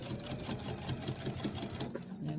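A sewing machine slowly stitches a travel pouch, a steady close-up mechanical hum and needle chatter running throughout, briefly easing toward the end.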